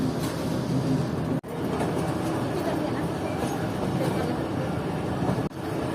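Fareed Express train pulling away from a platform on the Lahore to Karachi route, a steady loud rolling rumble and rattle heard from close by, with two brief dropouts.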